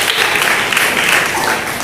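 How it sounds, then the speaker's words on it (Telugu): A church congregation claps loudly together during a sermon, a dense, steady wash of applause with no pauses across the whole short stretch. "గట్టిగా చప్పట్లు కొడదామా"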